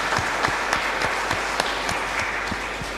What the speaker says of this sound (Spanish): son merecedores de un fuerte aplauso con nuestro agradecimiento